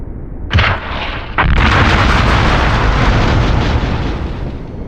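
In the Hidden & Dangerous game with the Ultimate Overhaul mod, stockpiled ammunition on a platform sets off a chain reaction: two sharp blasts come first, then a loud, sustained roaring rumble of explosions.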